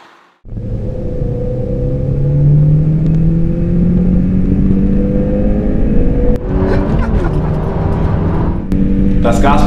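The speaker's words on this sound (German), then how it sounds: "Das Gaspedal ganz durchgedreht" A Peugeot RCZ R 270 THP turbocharged coupé accelerates at full throttle, its engine note climbing steadily and loudly through the revs, with a brief shift break partway and the drone pulling up again afterward.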